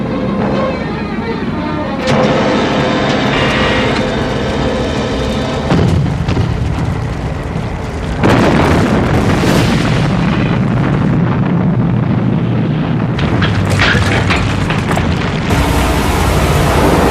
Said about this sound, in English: Good shooting, Virgil.